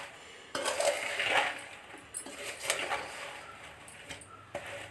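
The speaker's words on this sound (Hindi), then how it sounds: "तेल को काफ़ी अच्छी तरह से मिला देंगे ताकि" A spoon stirs oil into mango pickle in a metal pot, giving scattered close clinks and scrapes over soft background hiss, with no talk.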